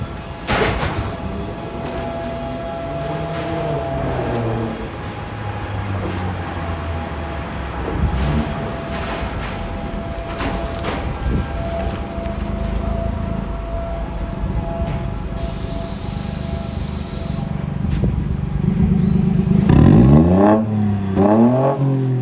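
A BMW F44 218 three-cylinder turbo engine revs repeatedly through a valved performance exhaust, rising and falling in pitch, with a throaty exhaust roar, closing in a final sharp rev.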